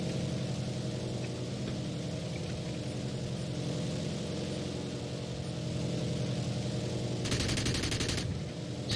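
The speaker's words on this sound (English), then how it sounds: "Just some ranging shots." An aircraft engine drones steadily inside a War Thunder bomber interceptor for several seconds. A rapid burst of machine-gun ranging fire then breaks through it, loud and close, for about a second near the end.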